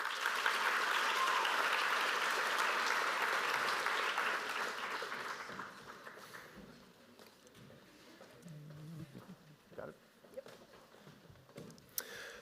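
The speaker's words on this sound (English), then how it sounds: "Let's have one final round of applause for all of our local scholarship providers and honorees." A round of applause for local scholarship providers and honorees at a high school senior awards night, broad crowd clapping that swells early and then fades away to near quiet with a few stray claps.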